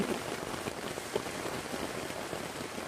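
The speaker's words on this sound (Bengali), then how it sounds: "দেখেন অনেকদিন পর বৃষ্টি পেয়েছি" Rain falls in a steady, dense patter of drops on surfaces close by, even and continuous, with no voices.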